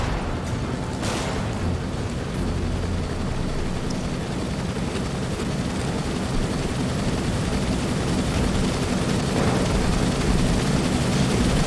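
Helicopter in Grand Theft Auto, a steady, loud rotor and engine roar holding constant throughout with no break, broad and noisy like wash from close overhead.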